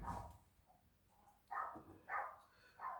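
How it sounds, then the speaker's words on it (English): Dogs bark faintly in the distance, several short separate barks spaced over a few seconds against a quiet indoor background. "Why is it I always have to get the dogs barking?"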